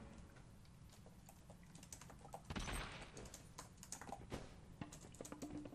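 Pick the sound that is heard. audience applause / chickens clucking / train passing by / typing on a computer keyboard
typing on a computer keyboard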